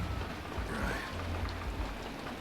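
Steady rain patter in the video game Detroit: Become Human, with a low rumble underneath, constant and fairly close, no voices.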